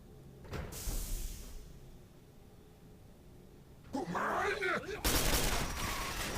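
Gunfire from the character Strauss in Quake 4 rings out in loud, close bursts, first a short blast and then sustained rapid shots with metallic clanks near the end, under ambient game noise.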